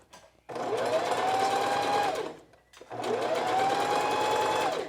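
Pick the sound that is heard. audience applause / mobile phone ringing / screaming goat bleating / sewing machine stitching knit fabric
sewing machine stitching knit fabric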